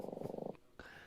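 Trigger, a pet cat, snores softly in a quick fluttering purr-like rhythm of rapid pulses lasting about half a second, close and quiet, followed by a faint breathy tail and a brief high tone.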